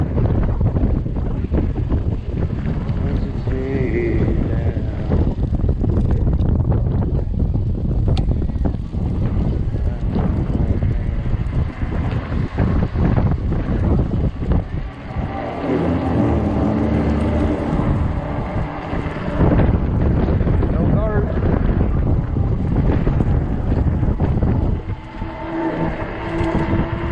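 Strong 30 mph wind gusts buffeting the microphone while riding an Ecotric 20-inch 48V fat tire e-bike on a warm day, loud continuous rumbling roar that swells and dips throughout.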